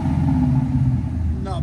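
A 2024 Ford Mustang GT with a 5.0L V8 and Valvetronic Designs mufflers, valves closed, rumbles in a loud, deep, steady rev, with a brief voice near the end.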